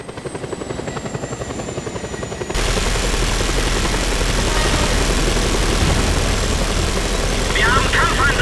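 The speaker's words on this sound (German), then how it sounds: "Ein Kampfhubschrauber." An attack helicopter in the Just Cause 2 video game throbs with a rapid, steady rotor chop. It swells suddenly louder partway through and stays close and heavy until the end, while speech runs over it.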